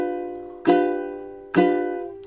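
Two ukulele strums made with a flick of the wrist, each a bright chord that rings out and fades slowly, close and clear with no talking.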